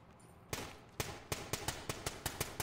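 Another gun firing in the tactical shooter game Ready or Not, a string of about ten sharp dry shots, a few spaced and then faster in quick succession, moderately loud and close.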